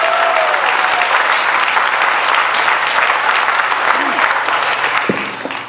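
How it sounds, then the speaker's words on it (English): Dense, steady applause from an audience at a Country Day school's tenth annual wrap-in event, honoring Boys and Girls Club volunteers, filling the room continuously before tapering slightly at the end. "Let's give them a round of applause."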